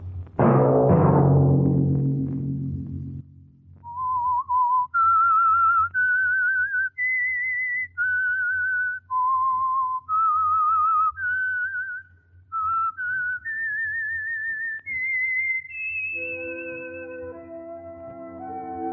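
A lone whistler carries a slow, wavering melody of clear sustained notes over a low hum, with brief other sounds at the start and end.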